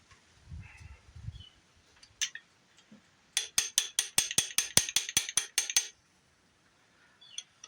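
A ratchet wrench loosens a bolt on a blown-up 318 engine from a Ramcharger, giving a quick run of about a dozen sharp, evenly spaced clicks after some scattered handling noises, close and clear with no talking.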